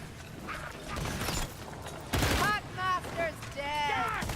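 Rapid rattling gunfire from a Ratling gunner in Vermintide 2, a burst of clattering shots mixed with mechanical creaks and game effects, moderately loud amid busy combat noise and faint voices.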